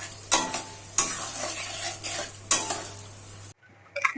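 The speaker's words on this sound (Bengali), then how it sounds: "সব সসগুলো দিয়ে ভালো করে নাড়াচাড়া করে নেব।" Sauces being stirred into chili chicken in a pan, a soft sizzle under several sharp scrapes and clinks of a utensil against metal, close by, then a brief quiet and a last clatter.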